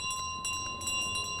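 A small hand bell rings in Untitled Goose Game, a bright sustained metallic tone with repeated jingling strikes over a steady hum, fairly loud and without talk.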